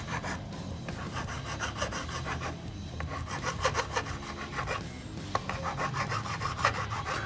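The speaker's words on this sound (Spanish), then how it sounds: "ya le pasé la lija, la lima" Rough rasping and rubbing strokes of a file and sandpaper worked over the wooden body of an Epiphone Les Paul Slash guitar during a repair touch-up, steady and close, with no talking.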